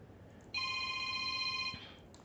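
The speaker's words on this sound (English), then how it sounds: "it's my real world phone." A real-world telephone rings once in a steady, shrill electronic tone lasting over a second, heard indoors at moderate distance over faint background noise.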